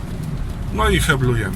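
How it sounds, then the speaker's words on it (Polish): Steady rain hissing around a Chevrolet Captiva on wet asphalt during a braking test on budget Premiorri Solazo S Plus tyres, a continuous broadband wash under a voice speaking close by. "Jak słyszycie, deszcz pada."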